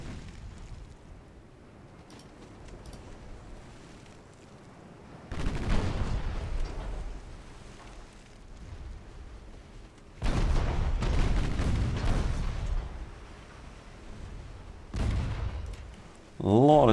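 Heavy naval gunfire from a warship in a naval combat game, with deep booming bursts arriving in three long rolling waves of secondary-battery fire, loud and close, spread over a low rumbling background.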